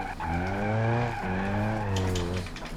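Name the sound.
car engine and tire skidding in video game BeamNG.drive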